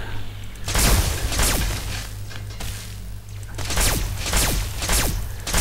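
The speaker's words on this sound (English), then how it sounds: "I hate the turrets." Automated turrets in Fallout 3 firing in rapid bursts, sharp cracking shots in several clusters over a low rumbling background, loud and close.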